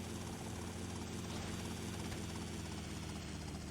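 A helicopter in the video game GTA Vice City drones steadily with a dense rotor and engine roar, continuous and moderately loud throughout with no talk.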